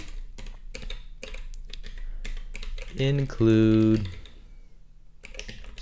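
Rapid clicking of a computer keyboard as C code is typed, steady keystrokes close by with a person talking over them partway through.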